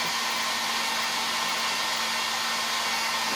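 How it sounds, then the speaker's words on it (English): A hair dryer running continuously to dry paint, a loud, steady airy roar with a constant motor hum, close by and with no talking. "we're just going to take the hair dryer and dry it up"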